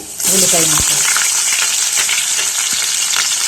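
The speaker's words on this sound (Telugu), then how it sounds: "ఉల్లిపాయ పచ్చిమిరపకాయ వేయించుకుందాం." Loud, steady sizzling of chopped onion and green chili hitting hot oil with cumin and curry leaves, a continuous crackling hiss with a brief clink and scrape of stirring near the start.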